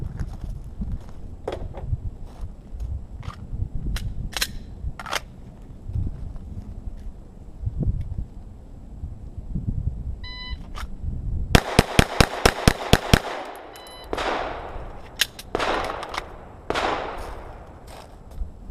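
A rapid string of eight sharp, loud gunshots from a pistol at an outdoor shooting drill, fired close together in an even rhythm, with a few scattered shots and clicks before and after.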